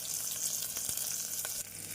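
Steady, close sizzling of chopped onions frying in a hot pan with curry leaves and dried chillies for sambar, with faint scraping clicks as they are stirred.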